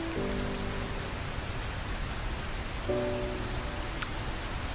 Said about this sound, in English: Is it gonna start raining like all the time?